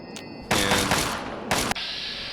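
Bursts of rapid gunfire from the video game Fallout 3, two sharp loud volleys a second apart with a dense crackling texture and a tonal game backdrop between them.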